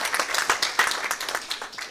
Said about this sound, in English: Oh, they deserve a clapping.